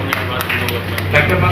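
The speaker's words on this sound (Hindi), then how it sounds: "एक बार जोरदार तालियां" Brief clapping rises from an audience at a Gorakhpur gathering honouring the poet Wafa Gorakhpuri, several distinct hand claps over a steady low electrical hum in the hall.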